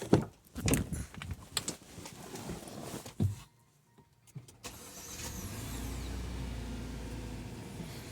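An MG HS Vibe SUV with a smart alternator and a starting problem turns over after a few clunks and handling noises, and its engine settles into a steady low idle close by.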